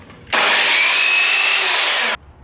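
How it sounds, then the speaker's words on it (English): A power saw slices through a board for a feature wall, one loud, sustained cut of about two seconds that begins and stops abruptly, with a faint whine riding the rasp. "We're going to cut this back end here for our left side."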